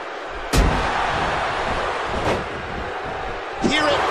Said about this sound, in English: Using the steps as a weapon.